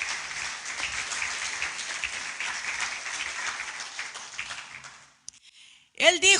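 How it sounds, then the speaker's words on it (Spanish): Congregation in a church gives the Lord a strong round of applause, dense clapping filling the space for about five seconds before stopping, followed by a brief pause and a speaker's voice resuming. "Denle un fuerte aplauso al Señor."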